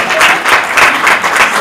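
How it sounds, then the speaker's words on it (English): A ballet audience claps in a lecture setting, a dense, fairly loud burst of applause with slight swells in intensity across its short span. "I think that deserves a round of applause."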